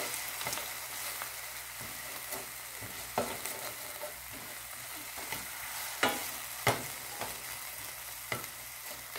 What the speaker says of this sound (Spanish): Tampoco tiene que estar muy dorada la cebolla.